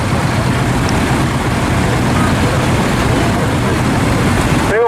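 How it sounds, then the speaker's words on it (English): A vintage Field Marshal diesel tractor fitted with a new fuel pump runs at a historic vehicle rally, its engine a steady, loud, rough low rumble that carries on without break. "very distinctive sound, you can always tell a Field Marshal"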